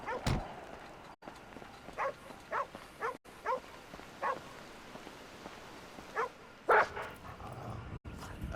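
Dog in the video game GTA V barks repeatedly, short sharp yaps spaced a second or so apart at moderate distance over a quiet ambient bed, a louder burst near the end.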